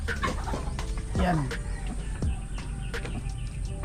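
A group of chickens clucks nearby in a rural Filipino setting, short scattered clucks and calls over background noise, with someone talking at times.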